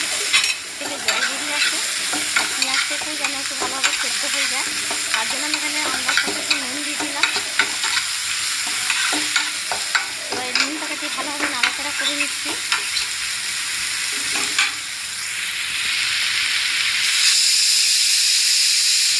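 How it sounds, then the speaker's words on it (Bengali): Tomato and onion frying in a pan while being stirred, for a Bengali rui posto fish dish: a dense, hissing sizzle with frequent scraping spatula strokes, close and loud, steadying into a plain steamy hiss near the end. "ভালোভাবে নাড়াচাড়া করে নিচ্ছি আমি এবার টমেটো পেঁয়াজটা ভাজা ভাজা ভালোভাবে ভেজে নিয়ে"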